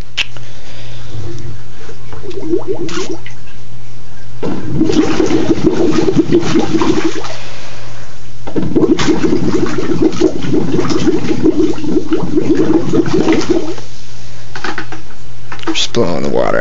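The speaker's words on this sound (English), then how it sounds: "Blowing the water out of the hose." Water sputters and gushes in two bursts as it is blown out of a hose used for a saltwater reef tank water change, with talk heard between the bursts.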